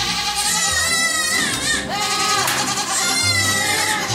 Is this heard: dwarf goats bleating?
yes